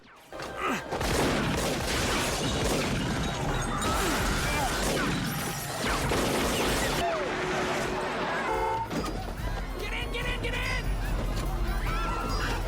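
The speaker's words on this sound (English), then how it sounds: "flee into a nightclub, where gunfire erupts" Film gunfire erupts in a nightclub: loud, dense bursts of shots, crashes and shattering, with music and voices in a chaotic, sustained action scene.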